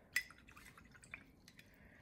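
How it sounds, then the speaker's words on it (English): Small drops of water falling onto a dry watercolor painting, a few soft, faint drips spaced out over a quiet background. "just put a little water down and see what happens"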